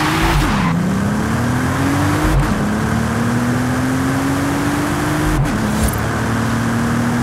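A 2021 Bentley Flying Spur tuned to 1750 hp, driven in Forza Horizon 5, roars at high speed with steady engine drone, rising pitch sweeps through gear changes and brief tire squeal, loud and continuous.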